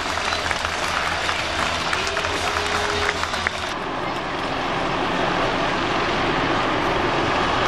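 Crowd at a Gold Beach air show, where a Eurocopter EC-725 Caracal has flown over, claps in a broad steady wash. The clapping thins midway while the open-air rumble continues.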